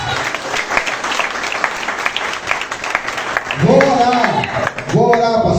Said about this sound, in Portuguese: Quem crê, exalta o Senhor com as palmas.